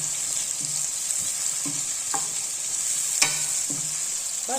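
Whole black pepper, cumin, green and black cardamom, cinnamon and cloves frying in a pot for a kofta and chickpea pulao, giving a steady close sizzle with a few soft stirring taps and clicks, and no voices.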